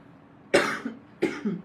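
Two harsh cold coughs close to the microphone, each a sharp burst followed by a smaller second hack, separated by a brief quiet pause.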